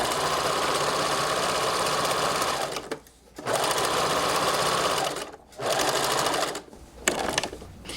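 A sewing machine stitches close to the edge of a sleeve, running in steady bursts of fast, even whirring with three short pauses between runs. No one speaks.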